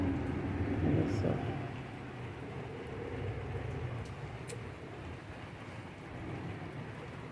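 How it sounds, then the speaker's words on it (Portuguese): Heavy, thick rain drums steadily on the roof of a house, a dense close wash of noise that swells slightly early on and then holds even throughout. "aqui em cima da casa tá um barulho forte de chuva, forte mesmo, chuva grossa"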